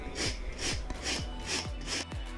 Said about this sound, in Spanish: se la vamos a sacar muy suavemente con la lija